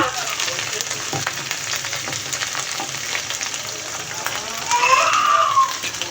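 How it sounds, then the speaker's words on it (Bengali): Spices sizzle steadily in hot oil for a Bengali chicken curry, a continuous crackling fry that swells louder for a moment near the end, with a faint high whine briefly over it. "যে কোনো রান্নায় মশলাটা তেলে ভাজলে গ্রানটা ভালো হয় দেখুন ভেজে নিয়েছি"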